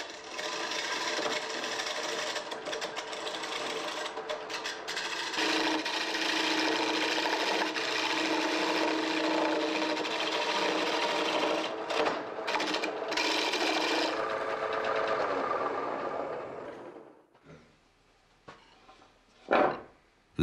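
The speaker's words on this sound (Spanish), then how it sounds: "Cuando el granjero trabaja en el torno, el olor a madera fresca invade el ambiente." A farmer turns wood on a lathe in a Bohemian forest setting, giving a steady rasping, whirring cut that runs continuously for about fourteen seconds, then tapers off into quieter scraping and a few knocks.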